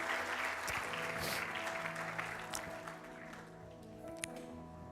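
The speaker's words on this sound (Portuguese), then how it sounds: "Dê um aplauso ao Senhor Jesus." Congregation clapping in a church service, a broad steady wash of applause that gradually thins toward the end, with faint musical tones sustained underneath.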